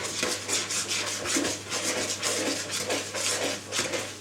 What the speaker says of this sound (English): Mix it with a round bladed knife.